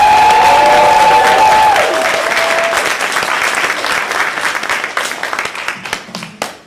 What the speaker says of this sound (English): big round of applause for Mike,